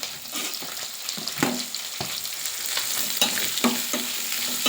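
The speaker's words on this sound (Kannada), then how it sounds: "ಈರುಳ್ಳಿ ವಾಸನೆ ಹೋಗೋವರೆಗೂ ಚೆನ್ನಾಗಿ ಇಟ್ಕೊಳ್ಬೇಕು" Onions fry in a pan with cumin and ginger for fish curry, a continuous sizzle broken by repeated scraping stirs at an uneven rhythm, close and moderately loud.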